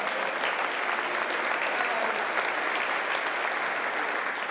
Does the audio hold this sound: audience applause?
yes